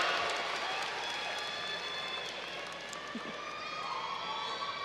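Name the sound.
round of applause for graduating seniors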